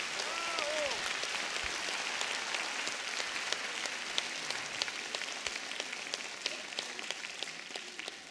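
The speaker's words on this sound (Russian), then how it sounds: "Аплодисменты оркестру." An audience at a chanson concert evening applauds the orchestra, a steady dense wash of clapping from a crowd that continues evenly without talk.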